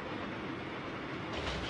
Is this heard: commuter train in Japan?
yes